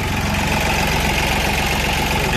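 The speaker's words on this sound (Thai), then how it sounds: "เป็นเครื่องยนต์ดีเซล" A Yanmar three-cylinder diesel engine in a six-wheel dump truck idles steadily up close, a low, even chugging rumble with a slight rhythmic knock that never changes pace.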